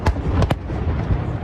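New Year's Eve fireworks at Constitution Dock: three sharp, loud bangs in quick succession at the start, followed by a rumbling, crackling crowd-and-harbour din.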